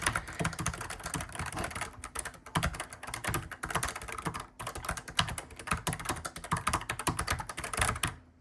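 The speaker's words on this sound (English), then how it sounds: "I actually do like the clackiness of the keyboard" Someone types steadily on a quiet membrane computer keyboard, a close run of soft, irregular clacks with brief pauses between bursts.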